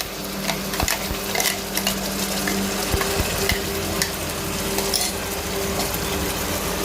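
A paste of onion, ginger, garlic and chili fries in a pan for an Assamese duck curry, a steady sizzle broken by scraping stirs and clinks of a utensil against the pan, with no voice over it.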